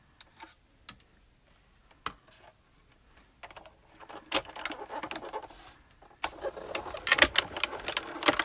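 A die cutting machine runs with cutting plates and a top plate stacked for a die cut, giving intermittent ticks and clicks that build into a louder, busier mechanical whirring and clattering over the final seconds, close and without talk.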